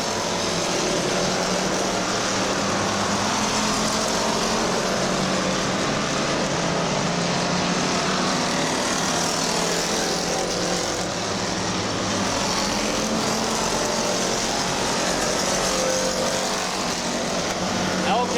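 Race cars running nose to tail at Midvale Speedway make a continuous engine roar that rises and falls. A commentator talks over the noise throughout.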